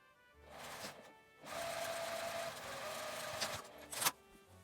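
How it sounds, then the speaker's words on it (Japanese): A sewing machine edge-stitching beside the seam of a lined flat pouch runs in a steady, fairly close whir for several seconds, preceded by brief short bursts and ending with a sharp clack. "ミシンはこの横に端ミシンをかけます"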